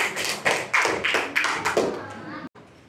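A classroom of children claps together in a quick rhythmic pattern, about eight sharp bursts of clapping close by, then trailing off.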